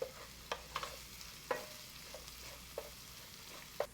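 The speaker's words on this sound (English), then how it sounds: "Give it all a quick stir and cook for about 1 minute or until the garlic is fragrant." Garlic being stirred in a pan on a burner over medium-low heat, a soft steady sizzle under a handful of light, evenly spaced scrapes and taps of the utensil, quiet and close.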